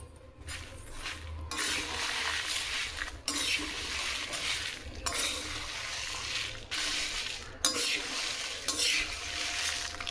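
Curry leaves fry in a pan for sambar powder, sizzling and crackling in loud bursts broken by short pauses, with scraping from stirring close up.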